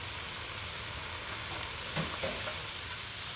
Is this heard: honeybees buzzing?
no